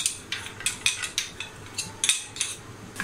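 Chopped onion tipped into desi ghee in a pan, giving a run of light clinking and scraping strokes from a spoon against the metal, evenly spaced and fairly quiet.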